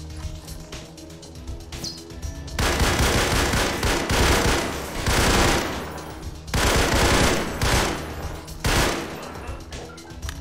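An AK rifle fires in a Garry's Mod realism map with loud, rapid automatic bursts, several long strings of shots separated by short pauses. Faint birdsong chirps in the background between volleys.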